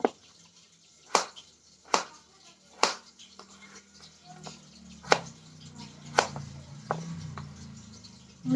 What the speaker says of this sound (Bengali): আলুগুলো মিডিয়াম সাইজ করেই কেটে নেব